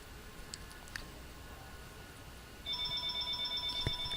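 A telephone ringing starts partway through after a few faint clicks, rising into a steady electronic trill with regular pulsing bursts over constant background hiss.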